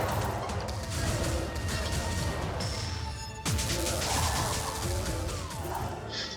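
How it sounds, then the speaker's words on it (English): A glass kite shatters in Wizard of Legend with a crashing burst partway through, set amid dense, continuous combat noise and clattering effects that carry on around it. "And there goes the glass kite, as expected."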